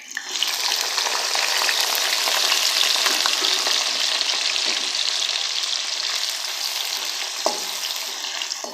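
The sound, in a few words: onions frying with roasted whole spices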